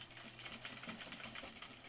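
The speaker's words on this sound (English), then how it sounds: "now I'm going to stitch in the ditch of this seam right here" A sewing machine runs stitching in the ditch of a seam on a bag, a fast even mechanical whir with rapid needle pulses, fairly quiet and alone.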